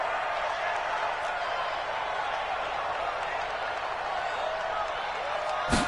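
A stadium crowd in a PS4 football video game roars and cheers in a steady, dense wash throughout, with a sharp knock near the end.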